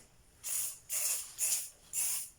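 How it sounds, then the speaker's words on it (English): Four short hissing bursts of cooking spray from an aerosol can onto foil, evenly spaced and fairly close, with quiet between each puff. "I'm just going to put a little bit of spray and cook"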